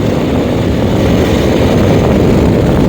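A 2023 Suzuki V-Strom 1050DE motorcycle engine roars loudly and steadily while accelerating in Sport mode, a dense close-up drone mixed with rushing wind noise.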